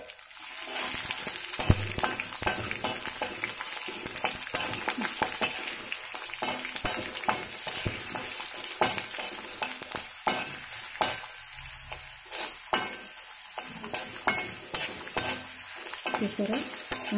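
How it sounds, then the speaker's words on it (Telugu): Tempering spices with green and dried red chillies sizzle in hot oil for amla pickle, a continuous close crackling fry broken by frequent spoon stirring and scraping against the pan. "పోపు వేగుతుంది."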